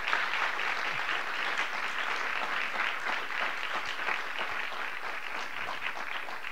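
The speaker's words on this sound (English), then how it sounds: "I just want all of you to give one more round of applause to our team" An audience at a speaker-series event on substance abuse and vaping applauds, a dense, steady round of clapping that carries on throughout at moderate distance.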